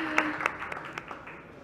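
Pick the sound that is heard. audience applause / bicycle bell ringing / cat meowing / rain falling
audience applause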